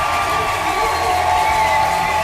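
A North Korean crowd cheering and applauding after a nuclear test, a steady, loud wall of massed voices and clapping that holds constant throughout.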